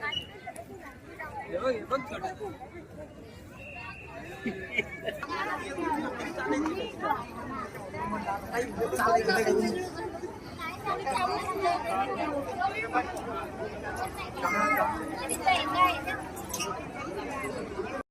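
Crowd of devotees chattering in the evening at the Swaminarayan temple in Narhe Ambegaon, Pune, a steady murmur of many voices with a reporter speaking over it.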